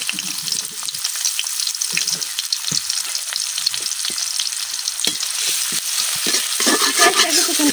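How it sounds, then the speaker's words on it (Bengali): Chopped onion fries in hot oil in a kadai, a loud, close, continuous sizzle with crackling pops and the scrape of stirring throughout, and no voices. "তেল গরম হয়ে গেছে, এখন আমি দিয়ে দিতেছি কাটে রাখা পেঁয়াজ।"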